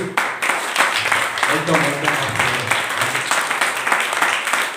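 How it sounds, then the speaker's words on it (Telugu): A church congregation at Sunday worship claps to welcome the pastor, a lively, fairly close run of applause with voices talking over it. "ఆయనకు మనము చప్పట్లు కొడుతూ ప్రేమతో ఆహ్వానిస్తాం మందిరంలోనికి"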